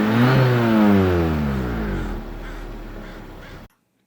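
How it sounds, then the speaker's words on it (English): A supercharged 1988 Toyota MR2 engine revs up with a rising, whining pitch, then settles into a falling roar before cutting off abruptly. "Rev up your engines!"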